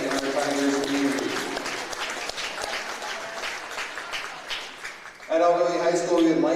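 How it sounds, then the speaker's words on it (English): Crowd applause at a high school boys basketball game in a gym, moderate and fading midway before music or voices swell loudly near the end. "Let's give a round of applause for the Mayo Clinic and the important role they play in our Tigers community."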